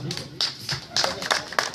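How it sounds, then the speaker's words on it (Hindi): Scattered hand claps from an audience at an event after an address by India's prime minister, a handful of distinct claps spaced through under a talking voice. "जोरदार तालियां हमारे प्रधानमंत्री जी के लिए एक बार फिर से"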